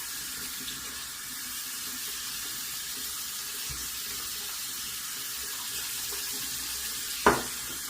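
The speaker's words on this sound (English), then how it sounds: "After shave is applied, I'm going to wash out the bowl here" Running water from a tap rinses out a shaving bowl and brush after a straight-razor shave, a steady close rushing hiss throughout with a brief clunk near the end.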